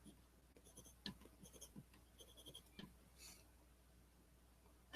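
A pencil scratches across paper in short, quiet strokes with small pauses between them, heard up close against a soft room hush and with no talking.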